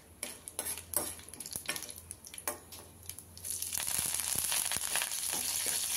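Mustard seeds, urad dal, chana dal, cumin and curry leaves crackling and popping in hot oil in a pan, with sharp irregular spatters and a brighter, denser sizzle building in the second half.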